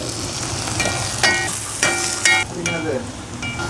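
Chopped small onions sizzle in hot oil in a pan, a loud close frying hiss with brief surges as they are stirred, and someone speaks briefly over it.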